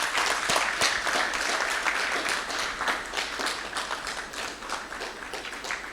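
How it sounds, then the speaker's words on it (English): Audience applause at a 2023 business roundtable, a dense, continuous wash of many hands clapping, steady and fairly loud throughout. "Please give them a round of applause."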